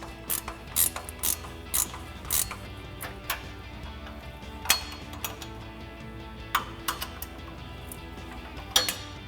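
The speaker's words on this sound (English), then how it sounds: "So using our 15mm ratcheting wrench, we just tighten this down." A 15mm ratcheting wrench tightening an exhaust bolt on a 2021 or later Ford Bronco during a cat-back exhaust install, with close, crisp clicking ratchet strokes in short repeated bursts separated by brief pauses.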